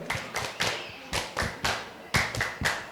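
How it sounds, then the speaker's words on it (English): Children give a Bambini clap on a kids' TV show: a run of distinct, evenly spaced group claps in a steady rhythm, close and fairly loud, with no talk over them. "give us a Bambini clap, because you've done marvelously well"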